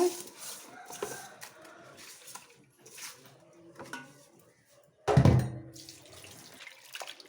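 Water splashes and trickles in a sink as prawns are rinsed by hand, with a louder gush of pouring partway through, then quieter dribbling.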